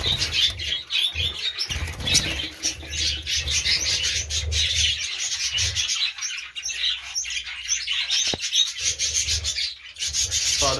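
Caged pet birds give dense, continuous high chirps and tweets close by, mixed with rustling, scratching and brief wing flutters.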